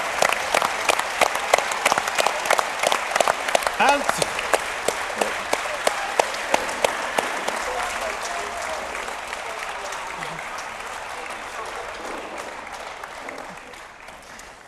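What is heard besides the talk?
audience applause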